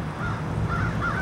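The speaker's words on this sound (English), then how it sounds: "I heard I believe it's a crow." A crow in a cemetery gives a few harsh caws, faint and somewhat distant, over a noisy outdoor background.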